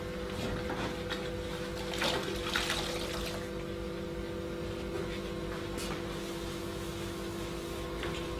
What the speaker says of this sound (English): I'm going to give this a final wash down and a rinse off